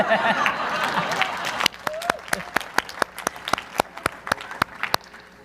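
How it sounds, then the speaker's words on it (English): An audience bursts into applause that thins into slower, scattered claps, with voices heard over it. "let's do another round of applause for Michael"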